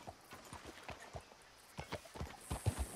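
Horse hooves clop in the game Red Dead Redemption 2, a quiet, irregular series of hoof strikes at a walking pace, growing a little louder and more clustered toward the end.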